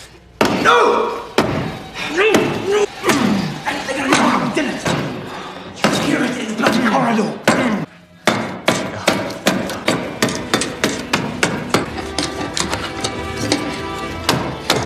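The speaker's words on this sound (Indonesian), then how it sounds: "Akhirnya, Leo menghancurkan kusen pintu dengan pahat." Repeated hard impacts from a chisel smashing through a wooden door frame, a rapid series of loud thuds and cracks, denser toward the end, with a narrating voice over the first half.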